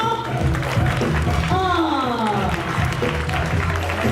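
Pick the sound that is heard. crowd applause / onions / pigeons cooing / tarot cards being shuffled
crowd applause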